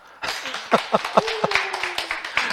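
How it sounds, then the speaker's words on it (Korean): A small class in a Korean lecture room claps briefly, with a few separate, uneven hand claps and a short burst of a voice over it, fairly quiet and close. "그 박수 안 쳐요? 다시 해요."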